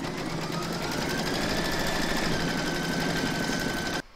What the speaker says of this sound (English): Pop your hoop back into your machine and stitch round number 3 to secure it.